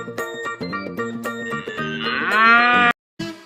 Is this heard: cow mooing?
yes